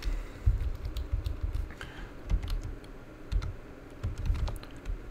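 Typing on a computer keyboard while entering figures into a spreadsheet: a steady run of light, close key clicks with small irregular bursts and pauses, no voices.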